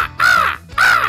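A person's voice imitates an American crow, giving two loud, harsh caws in quick succession, close and alone.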